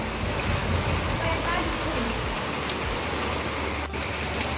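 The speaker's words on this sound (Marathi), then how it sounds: "जोरदार पाऊस चालू झालाय." Heavy rain pours down in a steady, dense hiss that fills the whole scene without a break, with a low rumble fading partway through.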